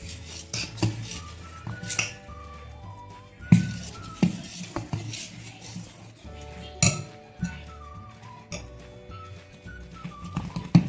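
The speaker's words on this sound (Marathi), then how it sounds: "अशा प्रकारे चांगले पीठ आपण मिक्स करून घेऊया." Fermented idli batter being stirred in a metal pot, with repeated scraping and clinking of the spoon against the pot's sides in an irregular rhythm, close and fairly clear.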